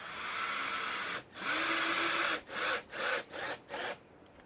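Power drill countersinking holes for epoxy-coated star head screws in wooden boat frames, a close steady whir followed by several short bursts.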